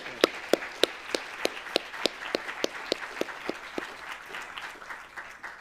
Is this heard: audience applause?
yes